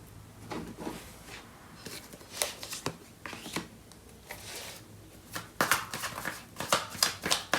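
Tarot cards are shuffled by hand in quiet surroundings, with soft papery riffles and slaps arriving in short irregular bursts.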